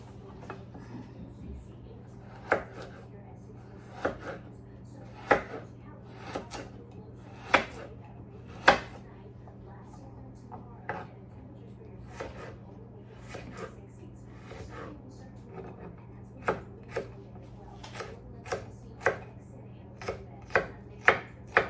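A knife chops ingredients for macaroni salad on a board, with irregular sharp cuts spread across more than twenty seconds that come quicker toward the end, close and fairly crisp over a low steady room hum.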